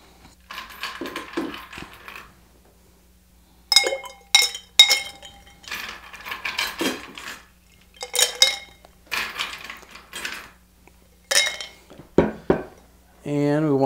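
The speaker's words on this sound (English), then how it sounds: "we want to stir it a nice long time to get it chilled, about at least 40 seconds probably" Ice knocks and clinks inside a mixing glass as a cocktail is stirred, with bright chiming taps in short bursts and brief gaps, close and fairly loud.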